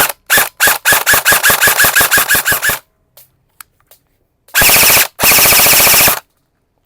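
An HFC airsoft AEG rifle shooting around 500 FPS fires loud, rapid full-auto bursts. A string of quick cracks comes first, then silence, then two longer sustained bursts, all close and with no talk.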